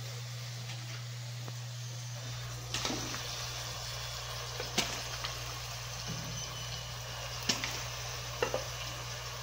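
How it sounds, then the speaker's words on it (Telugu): Raw prawns frying with softened onions and spices in a pan give a steady, close sizzle throughout, broken by a few sharp clacks from stirring. "రొయ్యలు వేసుకుని రొయ్యలు కూడా కొంచెం మగ్గ పెట్టుకుంటే"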